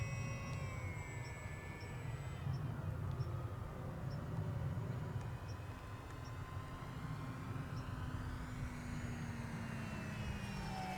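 An ESKY Eagles 1100mm RC model plane flies overhead, its electric motor producing a steady droning whine that shifts slowly in pitch as it passes, continuous and fairly distant outdoors.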